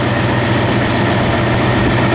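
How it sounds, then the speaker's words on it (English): A rebuilt 302 V8 in a 1966 Ford Mustang coupe idles close and loud with a constant low rumble that holds steady throughout, with no talking. "Underneath the hood, we have a rebuilt 302. Excellent running engine."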